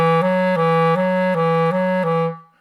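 A clarinet holds a sustained tone that alternates evenly between two close notes, a slow, slightly clumsy trill before fading out.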